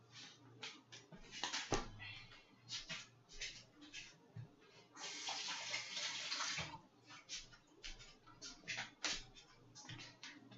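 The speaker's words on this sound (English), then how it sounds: "I just rinsed my hands off." Running tap water splashes over hands being rinsed, a soft, uneven hiss and patter that swells and breaks with movement, quiet and close.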